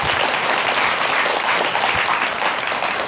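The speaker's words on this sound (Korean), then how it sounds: "큰 박수 한번 해주시기 바랍니다" Applause from a Buddhist pilgrimage group thanking their bus drivers at Cheongpyeongsa temple in Chuncheon, a dense, steady wash of many hands clapping loudly and continuously throughout.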